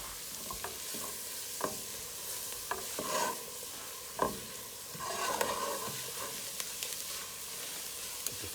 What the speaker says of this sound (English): And now we'll stir this around.